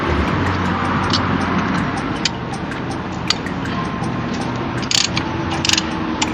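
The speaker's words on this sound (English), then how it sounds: "Then we're going to just wrench these one way or the other." Ratchet wrench clicking while tightening a brake caliper on a Jeep Grand Cherokee WK during a rotor and brake pad replacement, with close rapid ratcheting over a steady mechanical hum and a few sharper clicks.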